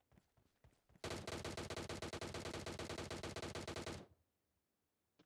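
Sustained automatic gunfire in the battle royale game BGMI, a dense rapid burst of shots lasting about three seconds and then cutting off, loud against quiet surroundings with a few faint knocks before it.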